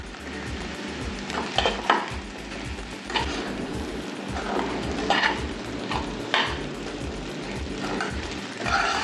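Sabudana khichdi made from sago pearls cooking in a pan: a steady soft sizzle with repeated scraping strokes of a spoon stirring against the metal, close and even, with no voices.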